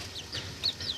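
Incubator-hatched chicks peeping, a few high, thin chirps in quick succession, faint and close, with no speech.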